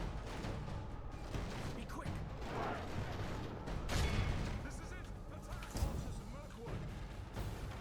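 Troops trade fire in the Medieval 2 Total War video game, with dense, overlapping battle noise, thuds and crashes running steadily throughout, mixed with game clamor.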